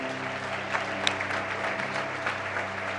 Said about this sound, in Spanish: Vamos a darle ese aplauso de agradecimiento